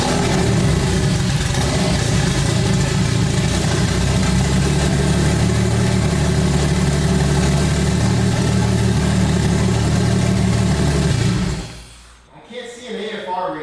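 A forged turbo BMW M50 engine in an E30 idles roughly at a low, steady, loud rumble, then cuts out near the end, leaving quieter noise.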